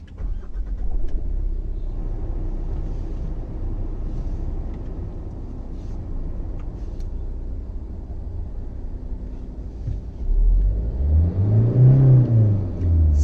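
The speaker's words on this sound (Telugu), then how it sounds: "ఇంజన్ స్టార్ట్ చేసి క్యాబిన్ లోపలికి ఇంజన్ యొక్క నాయిస్ అనేది ఎంత వరకు ఉంది ఏంటి అనే దాని గురించి కూడా మీకు ఒకసారి వినిపించే ప్రయత్నం చేస్తాను" Inside the cabin of a Tata Altroz diesel car, a low engine drone hums steadily, then swells into a louder rising rev near the end, with no one talking.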